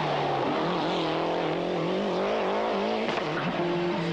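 A Ford Sierra rally car, suffering brake problems, races flat out along a stage in the French Rally Championship, its engine howling loud and close with rising and falling revs as it shifts gears.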